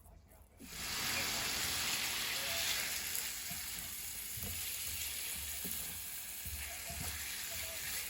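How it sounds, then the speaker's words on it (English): Lamb pieces for stew hitting a little oil in a pan on medium heat, setting off a sudden, steady sizzle that carries on with light crackling and occasional clinks from the pan. "I'm gonna start adding our lamb in."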